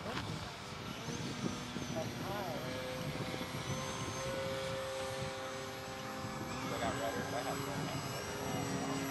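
A prototype RC model airplane comes in to land at a flying field, its buzzing electric motor whine rising and falling in pitch at a moderate distance, with light wind and faint outdoor background noise.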